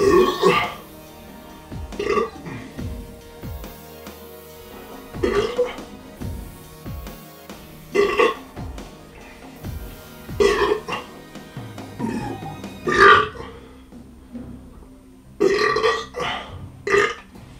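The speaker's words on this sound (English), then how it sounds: "like the language of burps over here." Repeated loud burps during a Pepsi-drinking challenge of about eight liters, arriving in bursts every couple of seconds, close and alone with no talk.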